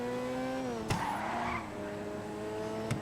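Tires squeal as a car drifts under throttle in GTA 5, a steady high whine with engine drone beneath and a couple of sharp clicks, no voices.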